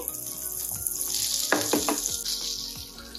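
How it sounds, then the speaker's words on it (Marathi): Butter and olive oil melt and sizzle in a pan, giving a steady close frying hiss with a few brief crackles and stirring scrapes partway through. "बटर थोडंसं मेल्ट होऊन द्यायचं आहे।"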